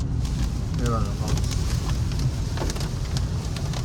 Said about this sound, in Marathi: किती पाऊस आहे बघा, सगळं दूरच आहे, दूर.